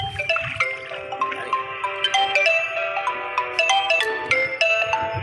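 An alarm clock rings with a bright, repeating electronic melody of chiming tones, close and fairly loud, playing continuously on its own without talk.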